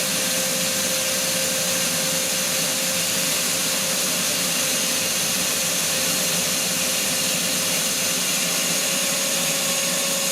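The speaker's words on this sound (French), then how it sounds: "on va voir la vitesse d'aspiration pour de l'eau" A Parkside wet vacuum carpet cleaner runs continuously while sucking up water, a loud, steady motor whine and airy roar that holds unchanged throughout with no voices.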